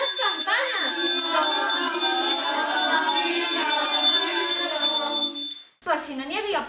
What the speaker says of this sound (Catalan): Ho sentiu? Són les campanes!